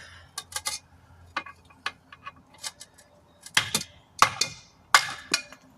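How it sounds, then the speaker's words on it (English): A series of sharp metallic taps and knocks from a hammer during a tire replacement on a 2000 Chevy Tahoe, irregular and close, with a few louder strikes clustered toward the end. "Here's my other hammer."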